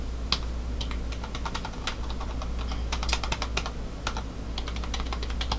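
Rapid typing on a computer keyboard, a steady run of close, crisp key clicks with irregular bursts and brief pauses, no voices.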